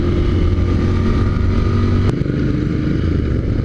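A Royal Enfield Continental GT 650 motorcycle runs at speed on a highway, its engine drone loud and close with a steady rumble and a brief dip near the middle, mixed with wind rush and no talk.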